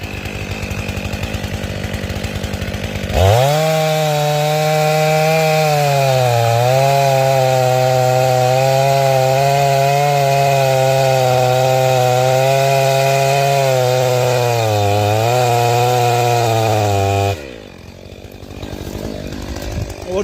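A Stihl MS500i or MS661 chainsaw bites into a tree wider than 30 inches, a loud close cut held steady for about fourteen seconds with slight dips in pitch, between quieter idle stretches before and after.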